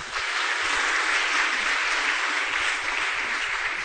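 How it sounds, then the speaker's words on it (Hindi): An audience at a Hindi talk on Jain history breaks into loud, dense, continuous clapping that holds steady throughout, with no voice heard over it. "अगर आपको गौरव लगे तो ताली बजाना"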